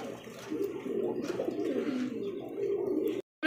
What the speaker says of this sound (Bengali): প্রিয় দর্শক দেখতে পাচ্ছি এখানে কিন্তু 3 পিস কবুতর, একটা হচ্ছে বেবি কবুতর আর একটা হচ্ছে রানিং জোড়া।